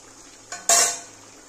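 A single short stirring scrape with a faint sizzle as chicken masala is sautéed in a pan, close and brief over quiet kitchen background.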